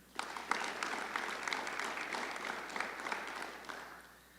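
Audience at a high school class day ceremony applauding a senior football athlete, a sustained burst of many hands clapping at moderate distance that swells and then fades out at the end.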